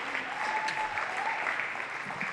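At a StoryBookFarm social event, an audience claps for a performer named Arthur in a continuous, uniform roar of many hands that stays level for a couple of seconds.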